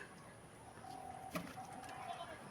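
Domestic pigeons coo softly nearby in an early-morning loft at feeding time. A low, drawn-out coo stands alone over faint background noise.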